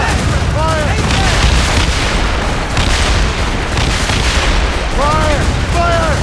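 Rapid volleys from ship cannons in an Assassin's Creed Rogue naval fight pound continuously and loudly, a dense rolling fusillade, with shouted crew voices cutting in over the gunfire.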